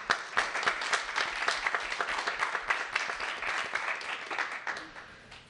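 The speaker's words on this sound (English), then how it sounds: "So just want to ask one more time everybody to join me in applause." Sustained applause from an audience at a NASA briefing honoring the Mars helicopter team, dense overlapping claps that hold steady and then taper slightly toward the end.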